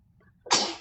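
A young boy gives one quick sneeze, a short sharp burst after a faint breathy intake, close to the microphone indoors.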